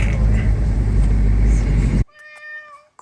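A cat at a vegan resort on Laguna de Apoyo, Nicaragua, gives a clear, close meow after a stretch of loud background rumble, with the tonal cry standing out alone in the quieter moment.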